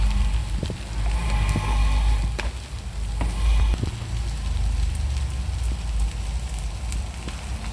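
Diced potatoes with salt sauté in a hot pan for a Tamil potato puttu, giving a steady, close, crackling sizzle with a few sharper pops, and no voices.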